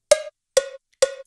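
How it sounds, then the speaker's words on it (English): FL Studio 20's metronome cowbell sound strikes three times at a steady pace, each hit bright and ringing briefly before fading. "So if I will select the cowbell, then it will sound like this"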